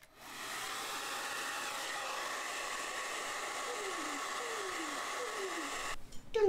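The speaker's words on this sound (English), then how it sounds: "Hair dryer will make this process faster, because otherwise you need to wait for the ink to dry" A hair dryer blows on fabric ink printed on a T-shirt, making a steady, close, loud whir throughout, with a brief clatter as it cuts off at the end.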